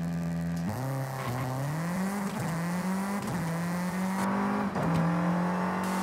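Ford Fiesta rally car engine in Forza Horizon 5, loud and close, a sustained drone with repeated rises and quick drops in pitch as it revs and shifts, no voices.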